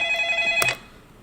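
A telephone ring in a TV comedy scene, a steady bright tone lasting about half a second before a sharp click-like burst cuts it off, leaving quiet room tone.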